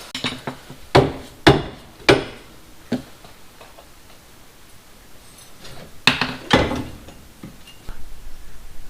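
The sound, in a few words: mallet tapping out Jeep Cherokee XJ suspension bolts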